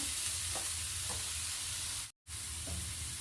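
A spoon stirs a carrot and onion stuffing for stuffed bun dosa, a soft, steady sizzling hiss with faint scraping, close by and alone, cut by a brief silent gap.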